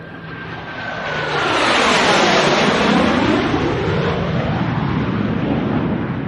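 Airplane engines roaring as the plane takes off on a flight to Iceland, the loud, close whine and rumble swelling over the first two seconds and then holding a steady, powerful drone without speech.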